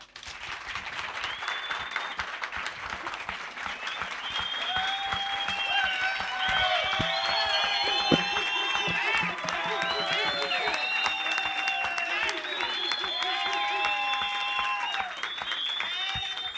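A young audience at a jazz concert claps as a sustained wave of applause that builds and holds. High children's voices shout and call out over the clapping.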